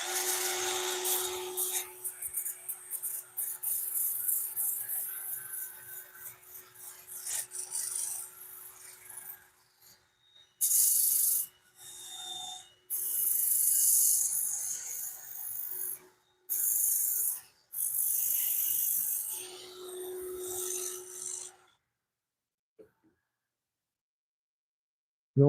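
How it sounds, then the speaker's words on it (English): A wooden bowl spinning on a woodturning lathe gets sanded, giving a steady abrasive rasping hiss that breaks into several separate sanding passes with short pauses before stopping. "I like to get in there and give it a quick sanding."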